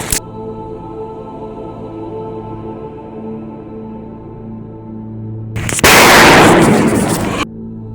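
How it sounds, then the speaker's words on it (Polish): A yellow firecracker goes off inside holes in the ground: a steady hum runs beneath, then a single loud, close blast with a burst of crackling debris that lasts nearly two seconds before cutting off. "zamierzamy petardę żółtą Jorgę rzucić tam do tych dziurek"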